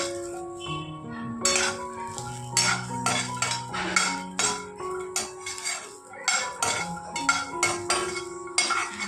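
Lima beans and peanuts being roasted in a pan produce repeated metallic clinks and scrapes from a utensil, close and uneven in rhythm, with faint tonal background sound.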